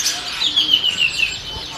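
Small caged birds such as greenbul-type songbirds chirp and tweet at a bird market kiosk, a quick run of thin high repeated calls over steady market background noise.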